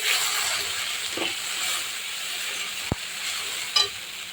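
Spice paste with garlic paste sizzling in a hot pan after a splash of water, a steady close hiss and crackle with a couple of brief clinks from stirring.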